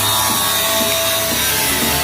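Steel rods are cut at a building foundation construction site with a loud, continuous grinding rasp that stays harsh and close throughout.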